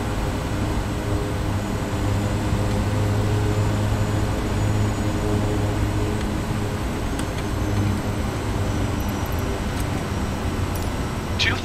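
A Kodiak 100 aircraft takes off on a runway in Microsoft Flight Simulator, its engine giving a steady, loud, sustained drone with a noisy hiss throughout, and no talk over it.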